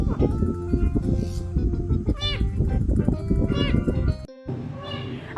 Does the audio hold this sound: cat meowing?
yes